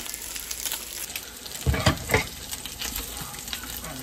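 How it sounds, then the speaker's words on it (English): Bacon and potatoes fry in grease with a continuous crackling sizzle, punctuated midway by a couple of louder stirring scrapes and pops, close and moderately quiet without speech. "my bacon is cooking and my potatoes is cooking"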